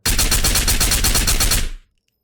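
A full-auto 7.62x51 rifle fires in the VR shooter Ghosts of Tabor: a loud, rapid burst of about a dozen evenly spaced shots lasting under two seconds, then it cuts abruptly to silence.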